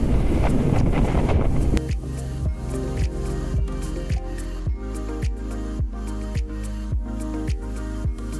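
Strong wind buffets the microphone on an exposed hilltop near Dodd Fell Hill during a bike ride, with a loud rumbling gust that eases into steady, rhythmic thumps and flutter.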